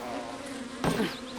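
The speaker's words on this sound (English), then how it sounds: "I love fighting bees." Steady insect-like buzzing of bees in Zelda: Tears of the Kingdom, a continuous drone near the listener with a short louder swell partway through, no voices.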